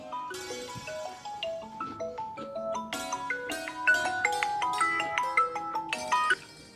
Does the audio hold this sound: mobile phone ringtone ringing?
yes